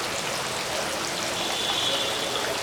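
Water with live fish fry poured into a cupped hand at a fry-selling centre, a steady close splashing trickle that runs without a break, with no talk over it.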